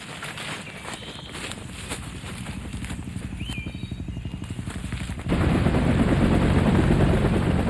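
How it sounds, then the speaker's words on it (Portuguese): Military helicopters unload soldiers during the Vietnam War, a continuous close rotor chop with rhythmic thumping that grows louder and heavier near the end, with faint voices beneath. "Os helicópteros estão descarregando a segunda leva de soldados."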